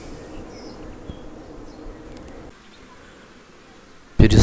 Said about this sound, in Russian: Струшиваю пчел, чтобы было видно все.